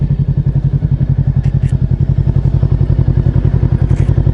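A motorcycle engine chugs steadily and loudly with a fast regular pulsing beat while riding on a commute to work, close to the microphone with no talking.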